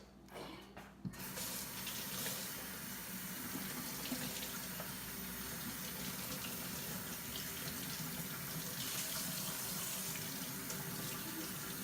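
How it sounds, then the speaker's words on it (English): Tap water runs steadily into a sink while a pork butt is rinsed for smoked pulled pork, a continuous hissing splash that stays even and close from start to finish, with no voices. "Rinse it off real fast."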